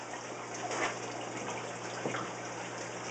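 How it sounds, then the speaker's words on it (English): Water gushing steadily from the end of an aquarium overflow hose, a continuous hissing splash, fairly faint, with a couple of brief louder surges and no talk. "Okay, now let's see if water's coming out of the end of this hose."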